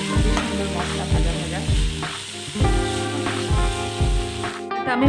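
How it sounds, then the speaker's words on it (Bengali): Spices and chana dal sauté in a hot pan with a bright, crackling sizzle, broken by regular stirring scrapes and clatters every half second or so, fairly close and loud. "সুন্দর মশলা ভাজা"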